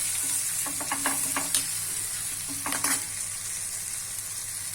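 A steady sizzle of hot oil as a pinch of asafoetida is stirred in for green chilli sambharo, two short bursts of stirring, a utensil scraping the pan, fairly quiet and close.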